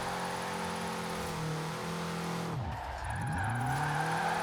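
A 160-horsepower BMW drifting in the racing game Forza Horizon 4, its engine droning with a sustained tire squeal, then a brief dip as the pitch sweeps down and climbs again.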